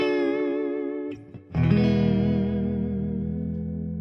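Electric guitar with a Bigsby tremolo arm, a sustained chord wavering in pitch, briefly cut off and then struck again, ringing out with a gentle shimmering vibrato.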